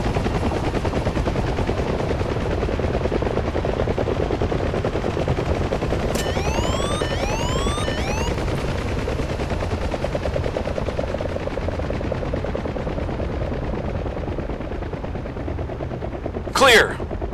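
Helicopter rotors drone continuously in the DCS combat simulator, loud and close, while a short machine-gun burst rattles in the middle and a sharp crack lands near the end.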